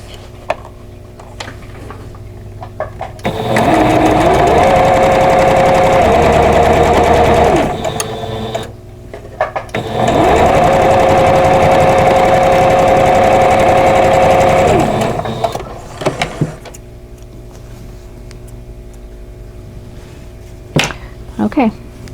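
A sewing machine stitches a quilt block seam in two steady bursts of several seconds each, loud and close, with pauses and quiet handling noises between runs and a voice speaking at times.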